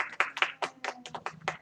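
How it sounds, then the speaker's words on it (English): A small audience claps for a science show, giving a short burst of about eight sharp, separate hand claps that sound fairly close and sparse. "let's give this mad scientist a tornado of applause"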